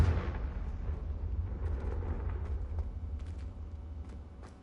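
A Confringo fire spell blast in Hogwarts Legacy, a deep rumbling whoosh that starts loud and rolls on steadily with faint crackling bursts, fading slightly toward the end, no talking.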